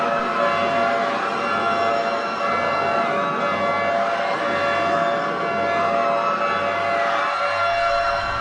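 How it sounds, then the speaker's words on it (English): Emergency sirens wail continuously after a nuclear power plant alert, a loud sustained rising and falling tone layered with several sirens, no talking. "Sirens are active and blaring, Mike."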